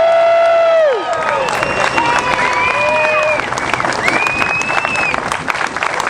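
A rally crowd at a Bakersfield, Kern County protest claps loudly and continuously. Rising whoops and whistled cheers ring out over the applause, with voices mixed into the noise.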